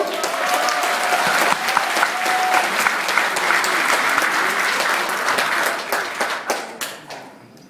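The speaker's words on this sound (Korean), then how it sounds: "박용진에게 힘찬 박수 한번 다시 보내주십시오." Crowd applause at a political party rally speech in the Busan, Ulsan and Gyeongnam region, sustained loud clapping for about seven seconds that thins and fades at the end.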